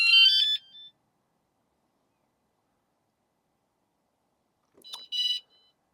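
Vanolarm van security alarm set off by a rattled door handle: a short shrill electronic beeping burst at the start, silence, then another brief pair of high beeps near the end.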